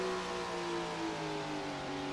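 Late model race cars circling the one-mile Long Lake track in Tony Stewart's All American Late Model Series game, a steady, droning engine whine holding at a constant pitch, moderately loud and unbroken.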